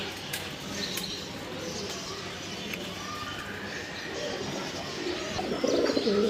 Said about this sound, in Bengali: দেখেন মাশাল্লাহ এই হচ্ছে তার মাদি কবুতরটা